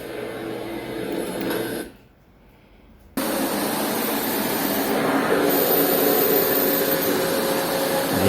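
An Amazon Basics vacuum cleaner runs with a loud, steady whine and broad rushing hiss that cuts out for about a second, then resumes at full strength and holds constant to the end, with no talking.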